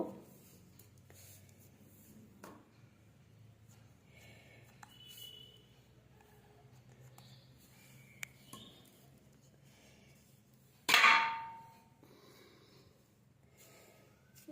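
Close, quiet rubbing and scraping of a rolling pin working pea-stuffed paratha dough on a board, a steady low rhythm broken once near the end by a sharp, louder clatter, with no voices.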